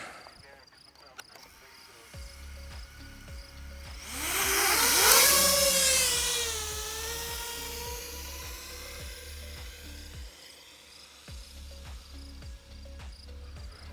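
Small FPV drone fitted with FlyfishRC antennas, a high whine that swells loudly as it passes close by and then fades away, heard over a steady background hum.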